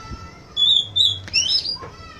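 A caged kacer (magpie robin), settled on its perch, gives a few clear, high chirps and short whistled phrases, close and fairly loud, with quiet gaps between them.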